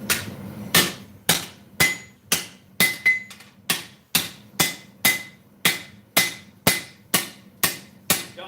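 A forging hammer strikes hot metal about fifteen times in a steady, ringing rhythm, each blow sharp and close with a brief metallic decay, and no talking.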